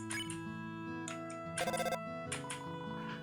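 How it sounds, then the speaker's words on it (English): A telephone rings in the video game Deltarune, loud bright electronic tones in repeated bursts with short gaps, heard alone and close. "The phone is ringing, but you can't get it."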